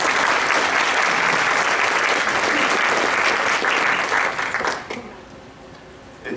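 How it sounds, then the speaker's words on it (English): Loud sustained applause from a crowd, dense clapping that fades out near the end into quiet. "please give a round of applause for Pastor George Nicholas."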